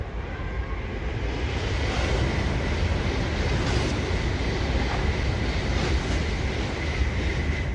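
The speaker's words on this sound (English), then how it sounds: "Trains come and go, one after another." Continuous rumble and rush of Shinkansen and local trains passing nearby one after another, steady and fairly loud throughout, with faint rhythmic clatter of wheels on track.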